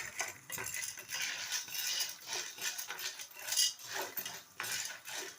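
Popcorn kernels and oil are stirred in a metal pot, producing a continuous gritty rattle and scraping with rhythmic surges as the spoon sweeps around, close up.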